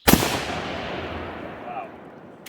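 A single loud shot from a Marlin lever-action rifle, chambered in .35 Remington, .30-30 Winchester or .45-70 Government, cracks sharply outdoors and then rolls off into a long fading echo.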